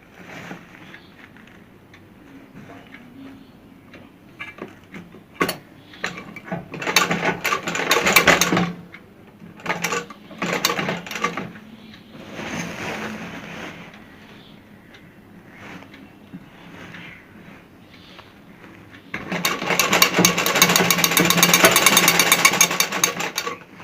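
A sewing machine stitches a semi-stitched lehenga, running in bursts of rapid mechanical rattling that start and stop, with one long loud run near the end; there is no speech.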